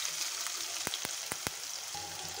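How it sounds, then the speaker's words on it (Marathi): Onion and curry leaves fry in hot oil as a tempering for a Maharashtrian dal vangi, giving a steady close sizzle with several sharp crackling pops. "कढीपत्ता टाकल्यानंतर कांदा त्यात फोडणीला द्यायचा आहे।"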